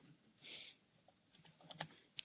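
Keystrokes on a computer keyboard during a live software demo, a handful of sharp separate clicks with a short rapid cluster near the end, close and fairly quiet.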